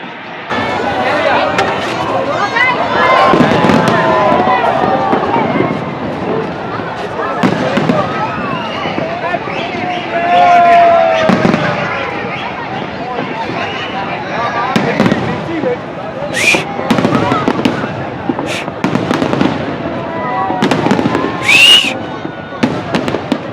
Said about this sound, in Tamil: அந்த பட்டாசு சவுண்டோட இவங்க வர்ற ஊழ விடுற சவுண்டு தான் பயங்கரமாக கேட்டுட்ருக்கு.